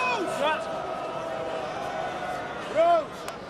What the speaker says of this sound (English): Crowd getting into fine voice.